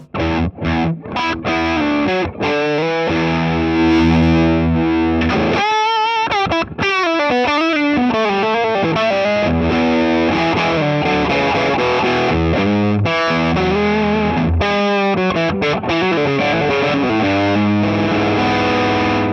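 An electric guitar runs through a Big Muff-style fuzz pedal with reverb and delay, playing thick, heavily distorted chords and sliding bends that wash into a hall-like tail, loud and continuous without any talk.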